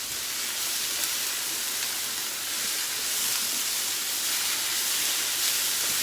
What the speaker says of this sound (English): Fry that garlic off